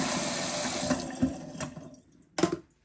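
Water poured into a kitchen sink fitted with a food waste grinder, a close rushing splash that tapers off, followed by a few faint drips and a brief final gurgle.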